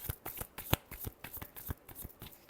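Tarot cards being shuffled by hand, a close run of crisp riffling flutters and soft slaps in an irregular rhythm, alone with no voice.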